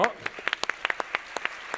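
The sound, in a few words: audience applauding for Sergi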